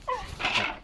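A dog named Happy gives a short, high whimper or yip, close and alone, while fixed on a cat nearby.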